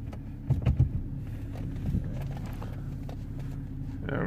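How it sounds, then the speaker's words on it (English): A Vauxhall Insignia 1.8 with a lean-running P0171 fault starts up with a short cranking burst, then settles into a steady low idle rumble. The sound is close and moderately loud, and a faint click comes near the end. "start the engine."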